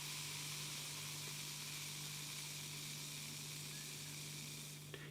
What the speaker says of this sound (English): Can hear that hiss and fizz of the Gose.